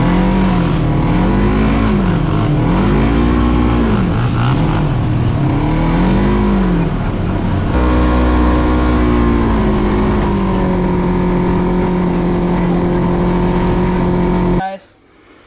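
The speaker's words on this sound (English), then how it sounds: "I'm starting this out. This is Cody's 2006 Honda TRX 450 ER." A 2006 Honda TRX 450 ER ATV engine runs close and loud, idling steadily with several revs that rise and fall before it cuts off.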